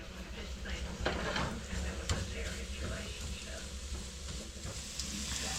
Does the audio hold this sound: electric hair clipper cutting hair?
no